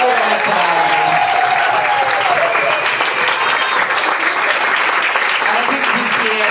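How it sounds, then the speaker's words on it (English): An audience at the 2022 Melbourne International Comedy Festival awards presentation claps loudly and steadily throughout, with a few vocal cheers mixed into the dense applause. "a round of applause for all the nominees and all the winners today."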